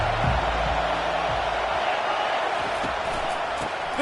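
Crowd at a Mississippi State versus Georgia college football game roaring at a distance, a broad steady wash of noise under a commentator's voice.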